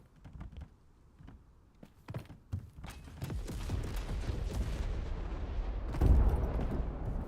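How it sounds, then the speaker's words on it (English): Explosion in an extraction shooter video game, a heavy low boom that swells at about six seconds amid a dense rumble of gunfire-like cracks and distant blasts. "I don't like the explosion I just heard."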